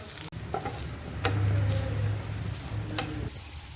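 Coconut pieces are stirred and fried in a pan with mustard seeds and curry leaves, making a steady hiss of frying with scraping spoon strokes. No voices are heard.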